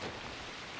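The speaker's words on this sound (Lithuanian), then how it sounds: "Ne, tai lietus." Rain in a Moomin cartoon falls as a steady, even hiss of drops pattering down across the whole moment, with no voices over it.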